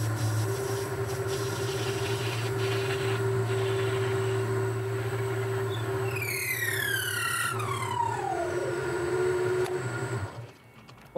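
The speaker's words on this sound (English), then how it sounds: "I'll set it up in the lathe to part it off to length." A metal lathe parts off a knurling tool part to length: a steady machine hum runs throughout, and midway a high screeching tone sweeps downward before the running noise drops away near the end.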